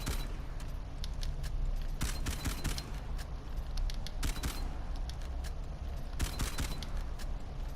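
Rapid bursts of gunfire from an ordinary weapon in Uncharted 4, coming in dense volleys with brief mechanical clicks of reloading between, all set against a steady loud game background.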